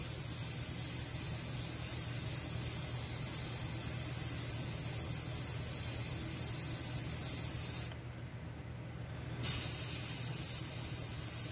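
A Border Model Black Flame airbrush spraying paint gives a steady, close airy hiss that runs throughout, briefly cutting out and changing tone near the end, with no talking.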